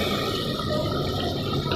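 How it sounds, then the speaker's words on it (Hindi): Water pours into a pot of chicken stew in one steady, splashy fill lasting under two seconds, close and moderately loud with no talk. "इसमें थोड़ा सा मैं पानी भी ऐड कर देती हूँ"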